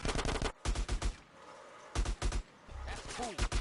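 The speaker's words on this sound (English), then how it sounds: "it got a little bit hiccupy with the assault rifle fire" Bursts of assault rifle fire from GTA San Andreas gameplay, several rapid clusters of shots in quick succession with gaps between, loud and close, mixed with some voice.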